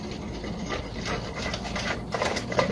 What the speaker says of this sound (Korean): 요 위에 십자 볼트가 하나 들어있어요. 그 십자 볼트 풀러야 돼요.